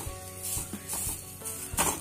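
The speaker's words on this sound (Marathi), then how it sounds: "5 मिनिट झाल्यानंतर मी एकदा भाजी हलवून घेतलेली आहे" A spoon stirs a ridge gourd peel vegetable dish in a pan, giving short scraping and clinking knocks in quick succession over a faint sizzle.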